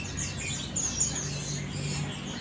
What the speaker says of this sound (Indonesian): Nah ini stok dari burung jalak suren Jawa. Ini gacoran ya teman-teman.